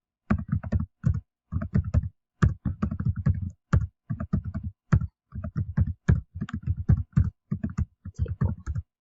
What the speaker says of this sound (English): we're going to type each of these into our little